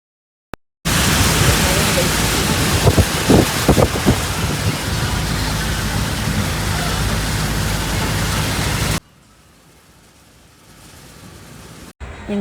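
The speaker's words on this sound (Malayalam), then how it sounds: "നല്ല മഴയുണ്ട്." Heavy rain drumming steadily as a dense hiss, heard from inside a car, then cutting off abruptly to near quiet.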